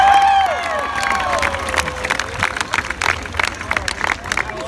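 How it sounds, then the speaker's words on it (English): A comedy show audience gives a big round of applause and cheering, a dense wash of clapping and whoops that stays loud and close while a voice talks over it. "How about we keep that round of applause going for James Waller?"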